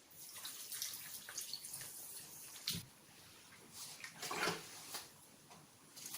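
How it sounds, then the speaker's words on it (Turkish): Four litres of water pour into a container of sugar for homemade red plum wine, a soft, splashy trickle with small surges, fairly faint. "Ve 4 litre suyumuzu boşaltıyoruz."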